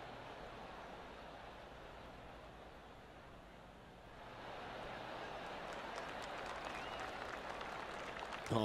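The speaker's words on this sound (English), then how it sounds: "golf clap" Golf crowd applause from a 2K golf video game, a broad steady patter of clapping that swells midway and holds, heard without talk.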